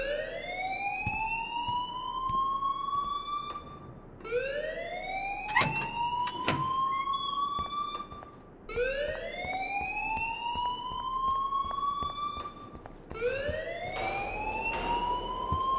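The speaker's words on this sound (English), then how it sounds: "please turn off that alarm since that's your job" A fire alarm wails in the Life is Strange video game, a loud rising whoop repeated four times in steady cycles, with faint clattering underneath.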